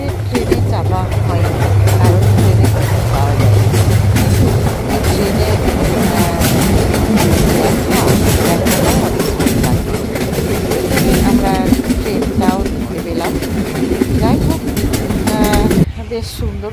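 A train rumbles loudly along the rails with rhythmic clatter of wheels, continuous and close for the whole stretch.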